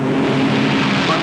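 Supercharged Novi race car engine roaring down the straightaway at the 1957 Indianapolis 500, a steady dense broadband drone with a sustained tonal whine, loud and continuous for the whole moment, with crowd or commentary noise mixed in.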